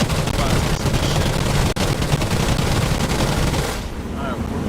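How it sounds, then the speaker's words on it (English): Continuous heavy automatic cannon fire from WWII aircraft in the flight combat game DCS, aimed at modern helicopters; a loud, dense, unbroken stream of rapid shots that eases off slightly near the end. "we're pouring cannon shots into them"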